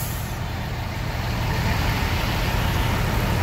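A Hino RM 280 Agramas coach bus idles nearby, a loud steady low engine rumble that holds constant with no talk.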